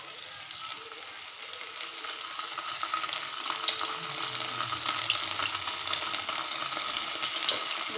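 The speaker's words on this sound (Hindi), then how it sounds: "मैंने गैस पर कढ़ाई चढ़ा दी है, इसमें तो टेबल स्पून ऑयल भी डाल दी है। अभी हम पनीर को थोड़ा सा फ्राई कर लेंगे" Paneer frying in a little oil in a kadai on a gas stove makes a steady sizzle that grows slightly louder and busier, sprinkled with small crackles and no voices.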